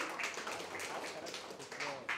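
Audience applause for a rapper at an open mic show: a steady wash of hand claps with scattered sharper claps, fairly close and continuous throughout, with no talk over it.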